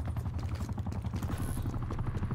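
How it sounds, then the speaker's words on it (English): An enemy attack helicopter in the Call of Duty Black Ops Cold War video game gives off a loud, steady rotor thrum with a rhythmic low pulse that runs unbroken throughout, with no talk over it. "Oh, I forgot they had a chopper, bro."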